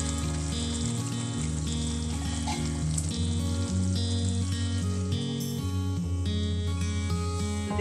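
Ginger and garlic masala sizzles loudly in oil in a pan for a mustard fish curry, a constant crackling fry with steady bubbling, close and alone with no talk.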